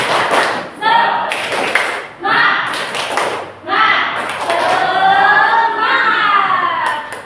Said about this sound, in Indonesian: Yuk tepuk semangat lagi, tepuk semangat.